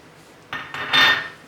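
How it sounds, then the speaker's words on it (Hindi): An egg is cracked against a bowl holding one cup of semolina for homemade biscuits: two sharp close taps on the rim, then a louder, longer crackle as the shell breaks open and the egg drops in, with no talking. "1 मैंने अंडा तोड़ के इसके अंदर डालूंगी।"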